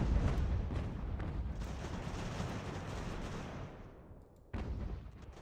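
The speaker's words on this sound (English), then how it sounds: "We get all our artillery focusing on these guys." Artillery fire in the strategy game Ultimate General: American Revolution, a sustained roar of cannon blasts and rumbling volleys that fades briefly, then resumes loudly.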